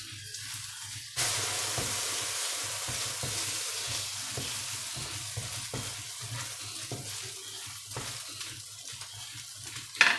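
A vegetarian omelette sizzles in a frying pan just after being flipped, a steady close hiss that jumps up suddenly and then holds, with faint scraping of a utensil and no talk.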